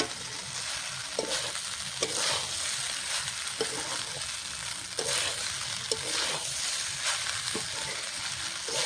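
Rice stir-fried with prawns and spring onions crackles in a hot pan, a continuous sizzle marked by regular stirring scrapes about once a second, close and without voices.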